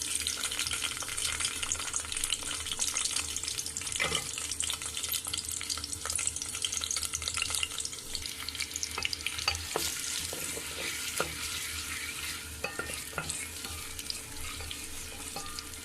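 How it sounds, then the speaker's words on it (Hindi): Onions sizzle steadily in hot ghee in a pan, a close, continuous frying hiss with occasional clicks and stirring scrapes throughout. "घी हमारा गर्म हो चुका है। अब इसमें जो है वो मैं प्याज शामिल कर दूँगी।"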